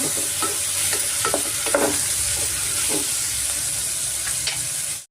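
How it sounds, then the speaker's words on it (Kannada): Vegetables and tomato frying in oil in a pan, a steady bright sizzle throughout with occasional louder crackles and stirring scrapes, no talking. "ತರಕಾರಿಗಳೆಲ್ಲ ಸ್ವಲ್ಪ ಚೆನ್ನಾಗಿ ಎಣ್ಣೆನಲ್ಲಿ ಫ್ರೈ ಮಾಡ್ಕೊಬೇಕಾಗುತ್ತೆ"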